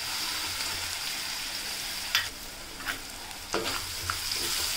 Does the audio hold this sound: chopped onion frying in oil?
yes